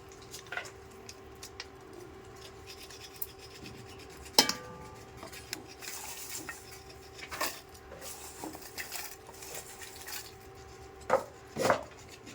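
Mango pieces being cut for Andhra avakaya pickle, a knife striking a board in scattered, irregular chops with a couple of sharper knocks near the end, close and fairly quiet over a steady low background hum.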